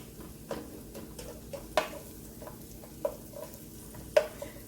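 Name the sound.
vegetables cooking on medium heat in a pan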